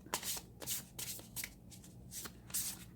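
Oracle cards are shuffled by hand in quick, crisp riffling bursts, about half a dozen soft flutters close by with short gaps between.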